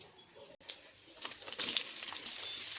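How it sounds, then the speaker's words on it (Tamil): Mustard seeds and onions fry in hot oil in a home kitchen, a soft crackling sizzle that rises after a brief pause and continues steadily at low volume. "கடுகு எல்லாம் பொரிஞ்சதும் வெங்காயம் ஆட் பண்ணிக்கலாம்."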